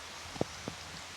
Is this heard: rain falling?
yes